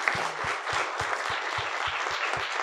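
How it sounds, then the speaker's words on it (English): A panel audience applauds its panelists with steady, dense clapping that fills the room, fairly far off and even in level throughout, with a regular low thumping underneath. "Can we give our panelists a round of applause?"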